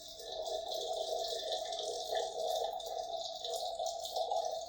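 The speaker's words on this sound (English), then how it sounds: "Dribbling down the side of the pot. But it is pretty. I love the way water curls coming out of a pot." Tea trickling and dribbling from a teapot down its side, a steady soft liquid patter with faint splashy drips, continuous and fairly quiet throughout.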